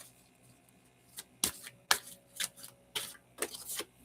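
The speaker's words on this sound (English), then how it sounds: "Maybe it's my shuffling" Oracle cards being shuffled by hand, a series of soft riffling bursts and taps at uneven intervals, close and quiet with no talking.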